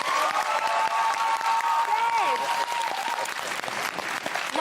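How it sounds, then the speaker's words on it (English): Studio audience at a daytime talk show clapping loudly and steadily, with cheers and whoops on top and a voice speaking over the applause. "show a round of applause"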